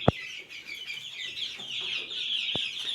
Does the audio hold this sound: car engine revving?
no